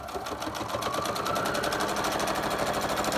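Sewing machine running continuously at a fast, even stitching rhythm while sewing a window pocket, a close mechanical whir and rapid needle patter that holds steady throughout, with no talk.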